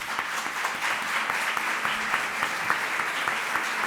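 Audience applause fills the hall at a book presentation in Madrid, a steady, dense wash of many hands clapping throughout, fairly close and continuous with no talk over it.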